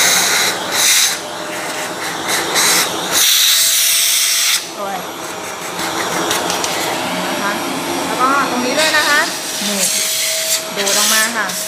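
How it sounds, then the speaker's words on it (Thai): A vacuum cleaner cleans a Nuova MDX OD coffee grinder, sucking out coffee grounds: a loud, close whooshing roar that surges and changes pitch in bursts as the nozzle moves, while someone talks over it. "ใช้เครื่องดูดฝุ่นนี่นะคะ"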